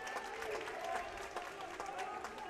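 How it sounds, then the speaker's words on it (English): Steady applause from the Mustang home crowd fills a high-school basketball gym after a made layup, a dense clapping texture running throughout with a murmur of voices beneath. "could hear the Mustang crowd applauding in agreement"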